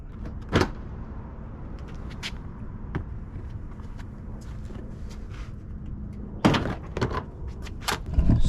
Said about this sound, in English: Actually gonna pull out the bumper to show you guys